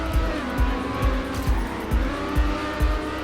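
A race car engine in the Trackmania video game drones with a steady tone, broken by regular rhythmic thumps roughly twice a second, fairly loud throughout with no voices.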